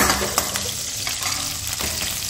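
Green chillies fry in hot oil with the gas off, making a loud, dense sizzle up close with a few crisp crackles through a short burst.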